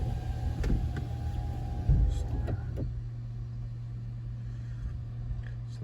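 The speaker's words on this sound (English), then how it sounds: "the valve for the coupling fastener is activating" A hydraulic pump valve on a BMW E93 convertible roof clicks on with a low steady electric hum, a few sharp clicks and a short thump sounding close by.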